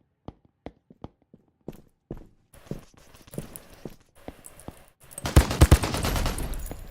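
AK rifle gunfire in a video game, starting as sparse single cracks that build into a denser, louder flurry of shots toward the end.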